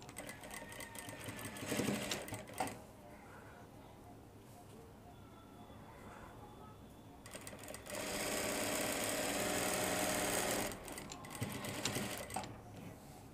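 A sewing machine stitches a flap onto a shirt pocket, with bursts of steady mechanical whirring around 2 seconds and a longer, louder run from about 7 to 11 seconds, separated by quieter handling noise.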